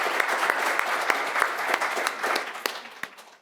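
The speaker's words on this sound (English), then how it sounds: "Everyone give a big round of applause." Audience applause at the Tiny Home Summit 2.0, an accessory dwelling unit event: a steady wash of many hands clapping, fairly near and sustained, with sharper individual claps standing out and the sound thinning toward the end.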